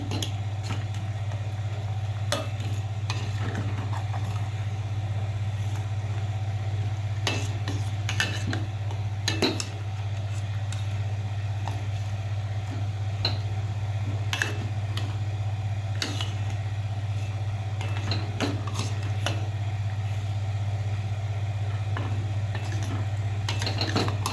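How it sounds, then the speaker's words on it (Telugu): A spoon scrapes and clinks intermittently against a pan as crushed jaggery melts for a sweet, over a steady low stove or burner hum, with no talk. "ఇప్పుడు బెల్లం అంతా కూడా కరగనివ్వాలి"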